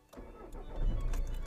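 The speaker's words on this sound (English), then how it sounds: "So what I'm going to do first of all is actually start the engine" A car engine cranks briefly and then catches, settling into a low rumble close by, with no talking.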